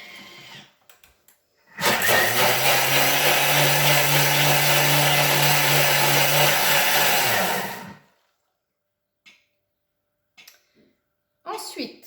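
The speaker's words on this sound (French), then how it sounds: "Donc toujours de l'eau chaude et du produit vaisselle à la hauteur des couteaux et vous mixez 15" A food processor blends hot water and dish soap, its motor whirring loud and steady for about six seconds before stopping abruptly, with brief faint clatter and movement afterward.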